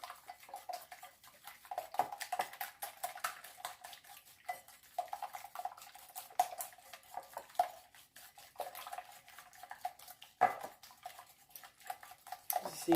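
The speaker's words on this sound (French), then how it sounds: "Vous mélangez bien." A spoon works through cake batter in a bowl, giving quiet, fairly regular clicks and soft scrapes against the bowl over a faint background, with one sharper knock near the end.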